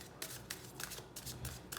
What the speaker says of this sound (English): let's get that one more shuffle